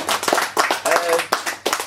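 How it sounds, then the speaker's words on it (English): A small group at a quiz night gives a contestant a brief round of applause, a few sharp, uneven bursts of clapping from nearby hands, with a voice talking over them. "Let's have a little round of applause for Simon Chiltern."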